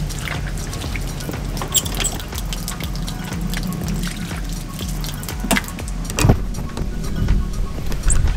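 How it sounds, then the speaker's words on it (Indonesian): Hands washed under a running tap during a stop: a steady, fairly loud hiss of flowing water with occasional splashes and clatter, and no talking. "cuci tangan dulu"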